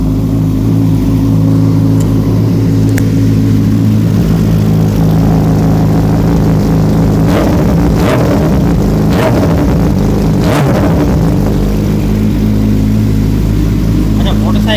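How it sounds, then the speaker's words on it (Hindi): A Suzuki GSX-R 600 sport motorcycle engine rumbles steadily and loudly, with a few sharp revs partway through, close up and continuous throughout. "अब मोटरसाइकिल को हम लोग स्टार्ट कर देते हैं। ये मोटरसाइकिल स्टार्ट हो गया।"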